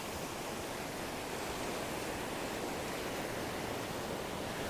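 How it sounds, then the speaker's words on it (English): Waves crash steadily on a New Zealand beach in winter, a loud, continuous broadband roar of surf with no distinct breaks, close and filling the scene without voices. "sometimes you want to be out in the open in a loud place like this with the waves crashing"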